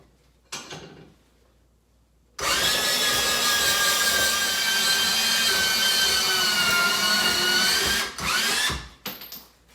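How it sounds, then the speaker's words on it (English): A portable bandsaw cuts through metal tube for an off-road lawnmower rebuild, a loud steady whine with ringing tones that runs for about six seconds, ending with a brief clatter of handling. "Luckily for me, got a nice portable bandsaw here."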